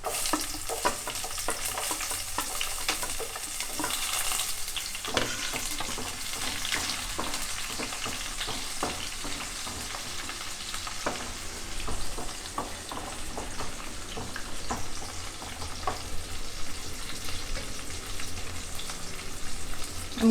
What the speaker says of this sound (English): Now we'll add these onions.